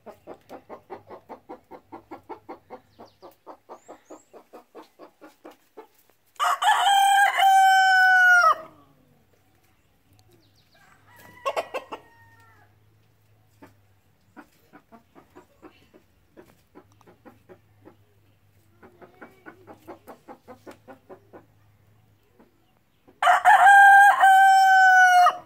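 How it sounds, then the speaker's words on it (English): In an African village, a rooster crows loudly and close twice, a long call at the start and another at the end, while hens cluck in short repeated bursts between the crows. "There is the chicken making forest noise."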